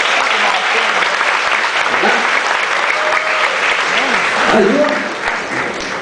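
A crowd at an awards event applauds recipients with dense, sustained clapping that stays loud throughout and fades slightly near the end, while a voice calls out over it.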